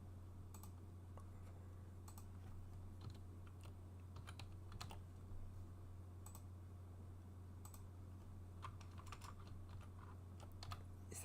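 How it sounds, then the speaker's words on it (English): Steady typing on a computer keyboard with quick, uneven clicking keystrokes close by over a low constant hum, no voices. "let me just type it in the chat."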